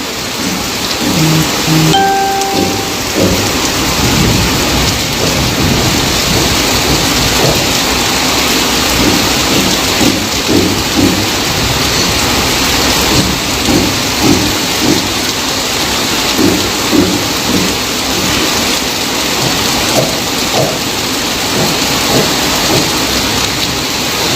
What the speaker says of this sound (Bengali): ঝমঝমিয়ে বৃষ্টি হচ্ছে এই মুহূর্তে